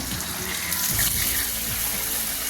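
Water pours and splashes into a pot of rasam for a couple of seconds, a steady gushing sound.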